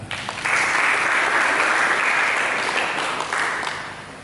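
A church congregation breaks into sustained applause during a sermon, a dense, steady wash of many hands clapping at once that holds for several seconds.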